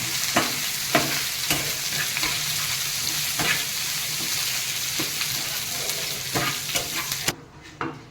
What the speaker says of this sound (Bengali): এই আমার ফোড়নগুলো সব কারি পাতাগুলো ভাজা হয়ে গেছে